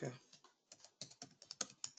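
Someone types on a computer keyboard during a Java programming session, producing quick, irregular, fairly quiet key clicks that speed up toward the end, with a faint voice at the start.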